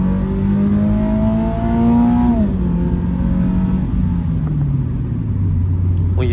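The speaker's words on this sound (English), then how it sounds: "When you really rev it out, it does sound good" A Toyota GR86 engine revs while driving, a loud droning rise in pitch that then drops and settles lower as the car moves on, steady and close from inside the car.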